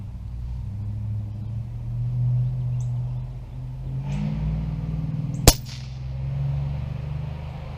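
A Umarex Origin .22 air rifle fires a single Crosman Premier 14.3 grain pellet, one sharp, loud crack in the middle, over a low outdoor rumble of background traffic.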